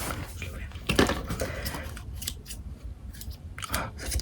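Small scissors snip through labels on school supplies, giving a few crisp close clicks and cuts separated by handling noise, with a faint voice talking in the background.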